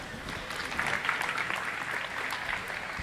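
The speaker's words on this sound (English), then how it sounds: "Give these kids a round of applause." Applause from the crowd at a 4-H/FFA market steer show at a county fair, a steady wash of clapping from many hands lasting a few seconds at moderate volume.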